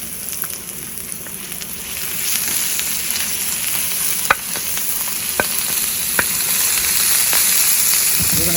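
Shrimp sautéing in olive oil in a wok, giving a continuous close sizzle with scattered pops and crackles that build slightly louder over time, with no speech.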